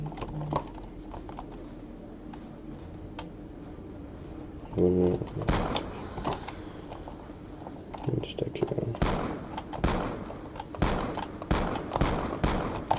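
Gunfire in Black Ops 2 zombies, Transit map: scattered single shots early, then rapid loud bursts of automatic fire in the second half, with game noise beneath.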